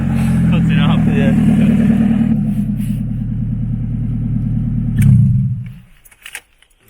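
A 6th-generation Honda Civic engine breathes through a 4-2-1 exhaust header with a loud, close, throbbing rumble. The revs swell briefly near the end, then the engine cuts off into near quiet.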